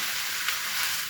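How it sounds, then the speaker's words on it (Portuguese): Kabocha squash frying in a pan, a steady, close bright sizzle that holds evenly throughout. "Eu tenho que deixar bem fritinho pra poder jogar o caldinho aqui."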